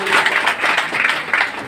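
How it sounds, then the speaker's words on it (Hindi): Audience applause at a village student recognition event in Madhubani, Bihar, with bursts of clapping rising and falling under a nearby voice. "जोरदार तालियों से स्वागत करते रहिएगा।"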